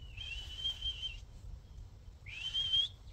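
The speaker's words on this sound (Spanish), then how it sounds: "Yo uso mucho un silbido muy suave" A person gives two soft, sustained whistle notes to call Deutsch Drahthaar dogs, each about a second long with a slight rise at the end, separated by a short pause over a quiet background.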